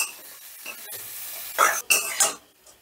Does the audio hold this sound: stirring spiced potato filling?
yes